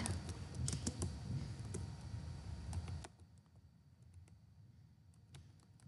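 Code is typed on a computer keyboard, quick clusters of close key clicks at first, then sparser, lighter taps over a quiet background.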